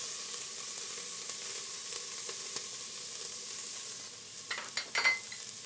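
Red Fresno chilies and ginger sautéing in a pan, with a soft, continuous sizzle near at hand and a few spatula scrapes and taps toward the end as they are stirred.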